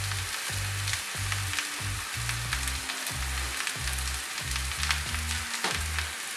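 Moong dal flour and salt stirred in a pan for upma: a loud, rhythmic scraping of the spoon against the pan repeating about twice a second over a continuous hiss, close by and without speech.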